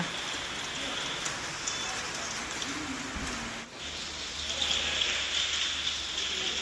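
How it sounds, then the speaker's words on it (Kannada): Steady rain pattering and dripping on surfaces outside a Ganapati temple in Udupi, Karnataka, just as a shower eases off, a continuous wet hiss with scattered drops close by. "ನೋಡಿ ಈಗ ಜಸ್ಟ್ ಮಳೆ ಬಂದು ನಿಂತಿದೆ ಅಷ್ಟೇಯ"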